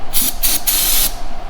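Starting fluid sprayed into the air box of an old Honda Goldwing motorcycle, heard as three close, loud hissing bursts, the last one longest, with no talking.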